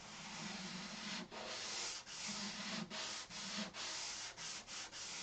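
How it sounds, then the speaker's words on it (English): Rhythmic hand sanding with 320-grit paper, steady rasping strokes with brief pauses between passes, close and fairly loud, no voices. "I'm sanding with 320"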